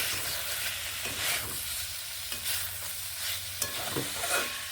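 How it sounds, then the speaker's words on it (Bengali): Salted beans stir-fried in a pan, a continuous close sizzle with repeated spatula scrapes and taps at an unhurried rhythm, no voices. "আর চল্লিশ থেকে পঞ্চাশ সেকেন্ড আমি এইভাবে কষিয়ে নেব"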